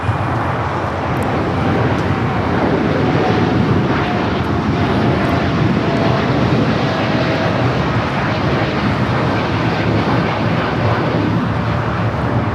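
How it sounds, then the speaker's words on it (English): A United Boeing 787-9 Dreamliner, flight 1855 bound for Newark, takes off at LAX with a loud, sustained jet engine roar that stays broad and steady for the whole stretch. "That was United 1855 taking off to Newark on the 787-9 Dreamliner."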